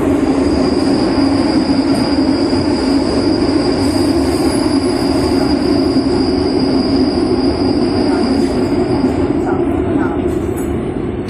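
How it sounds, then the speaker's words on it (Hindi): A metro train in Lisbon runs with a loud, steady rumble of wheels on rails and a sustained high squeal over it, continuing without a break for over ten seconds. "तो गाइस अपनी आ चुकी है मेट्रो, अब हम जाते हैं मेट्रो में"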